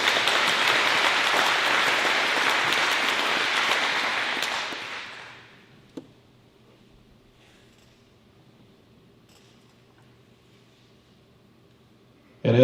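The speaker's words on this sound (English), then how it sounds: "How about one more round of applause for everyone participating here tonight?" Audience at a Fairbury mayoral candidate forum gives a sustained round of applause for the participants. The clapping is steady and dense for about four seconds, then fades out into a quiet room with a single faint knock near the end.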